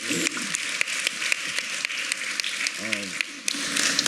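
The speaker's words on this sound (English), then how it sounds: "Can we get a quick round of applause for all the amazing things going on in Detroit?" Audience applause at a National Philanthropy Day event in Detroit, a steady wash of clapping through the whole stretch, with a voice rising briefly near the end.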